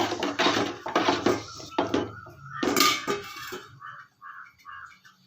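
Thick curd being mixed into a country chicken biryani masala in a pot, with repeated clanks and scrapes of a ladle against the vessel, close and fairly loud, easing off toward the end.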